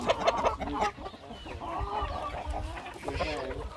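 Hens in a poultry farm barn cluck and murmur in overlapping bursts, close and fairly loud, with a few sharper squawks amid the steady flock chatter.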